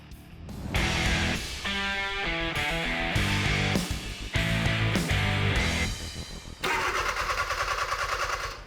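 A diesel engine cranks repeatedly in loud, strained bursts, the starter whirring with brief pauses between attempts, never catching.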